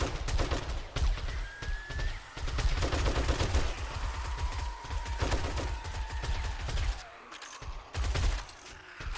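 Gunfire in 7 Days to Die as a player fires steadily into a crowd of mobs, with dense, rapid shots running continuously over a rumbling game backdrop.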